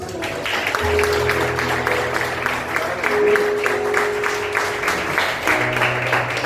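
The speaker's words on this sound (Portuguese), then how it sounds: "Aplauda Jesus, irmãos." A church congregation applauds during a worship service, steady clapping over an organ-like sustained tone and background voices, fairly close and even in loudness.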